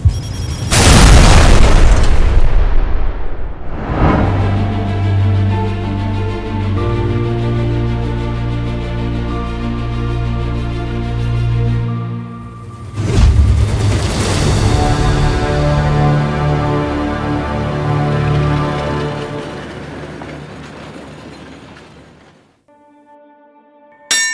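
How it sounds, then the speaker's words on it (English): Two heavy, booming explosions, each followed by a long rumbling decay that fades slowly, with no voices. "the once familiar sound of the train was drowned amidst the dissonance of gunfire and bomb explosions"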